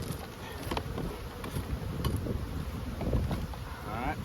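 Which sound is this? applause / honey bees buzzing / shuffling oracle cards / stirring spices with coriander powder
honey bees buzzing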